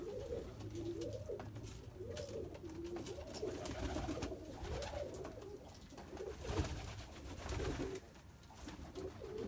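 Pigeons in a coop flooded after snow coo repeatedly in soft, rolling phrases, several birds overlapping nearby with steady low background noise.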